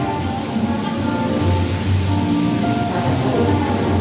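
Steady rain pours down, a continuous dense hiss with a low rumble beneath, no voices.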